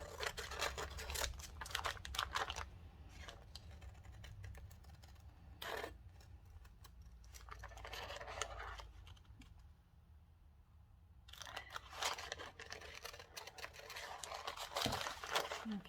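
Fabric appliqué shapes, including a butterfly, are cut out by hand with scissors: bursts of snipping and crisp rustling come and go across the stretch, with quiet gaps between them and no talk.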